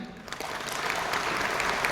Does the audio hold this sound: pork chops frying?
no